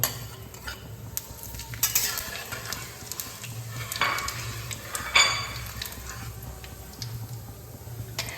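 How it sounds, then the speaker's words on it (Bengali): Three dry red chillies and a spoon of whole cumin sizzling in hot oil, a steady soft crackle with a few sharper spoon clinks and scrapes against the pan. "এখানে আমি তিনটে শুকনো লঙ্কা নিয়েছি আর এক চামচ গোটা জিরে নিয়েছি এটাকে আমি ফোড়ন দিয়ে নেব"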